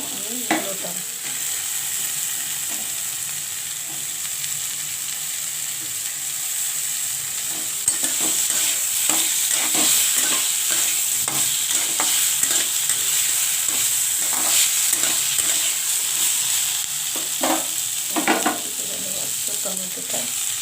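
Potatoes and radish frying in a pan give a loud, steady sizzle. Repeated scraping stir strokes join in about halfway through and grow busier, close up, with no talking.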